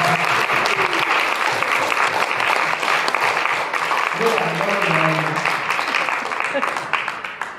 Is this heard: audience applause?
yes